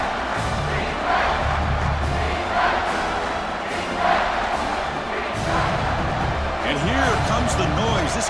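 A stadium crowd in EA College Football 26 roars steadily throughout a USC at Oregon game, a loud continuous wash of cheering with periodic swells, under a commentator's voice.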